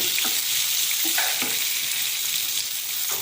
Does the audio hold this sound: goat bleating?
no